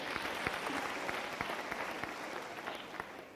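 A graduation ceremony audience claps steadily, a full, even round of applause with distinct individual claps close by, continuing throughout before beginning to taper.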